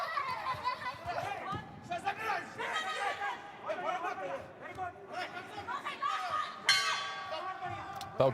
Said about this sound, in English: Bell goes at the end of the first round.